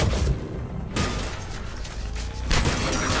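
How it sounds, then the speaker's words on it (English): Particle rifle fire in Mass Effect 3 comes as loud, crackling bursts, one at the start, another near one second and a heavier one toward the end, over a continuous rumbling game background. "I just headshot the guy to death with the particle rifle."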